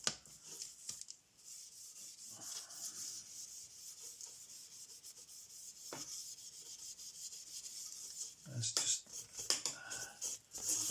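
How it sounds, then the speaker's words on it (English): Steel wool scrubbed over the surface of a handmade prop lance, a steady close scratchy rubbing that runs continuously with brief pauses and a few sharper scrapes near the end. "It's just an experiment to see what happens if I steel wool on top of it."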